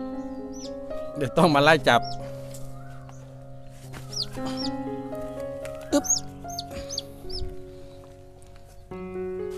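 Newly hatched baby chicks, freshly out of their nests on a farm, give high, thin peeps scattered through the scene alongside a few adult hen clucks, while someone talks nearby.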